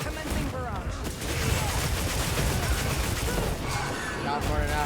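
Dense barrage of gunfire in Monster Hunter Wilds, a sustained, loud stream of shots and booms running the whole time, with a voice talking over parts of it.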